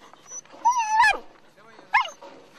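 A dog caged during ball-obsession training gives two high, wavering whimpers, the first longer and the second brief, heard close and moderately loud against quiet surroundings.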